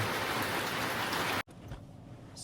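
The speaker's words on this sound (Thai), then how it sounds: "ฝนตกเรื่อยๆเลยนะ" Steady heavy monsoon-season rain in northern Thailand hisses loudly, then cuts off abruptly to a much quieter patter.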